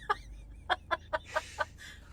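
Chickens cluck nearby in a quick series of about six short, evenly spaced clucks over a quiet low background hum.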